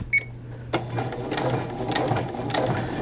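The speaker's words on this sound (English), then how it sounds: "Okay, pocket top stitching in progress." A sewing machine top-stitches a pocket onto a women's button-down shirt, running in a steady, close, continuous mechanical whir after a brief click as it starts, with no talking.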